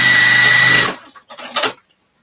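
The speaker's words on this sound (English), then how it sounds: "This one you sew right up." Sewing machine stitching the seam of an extra large project bag, running loud and steady for just under a second before stopping, then a few brief softer clicks and rustles.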